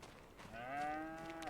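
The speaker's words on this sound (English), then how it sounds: "we've got that little cow running" A cow in a ranch-building video game lets out a single drawn-out moo, close and clear, rising slightly and then holding steady over a faint background.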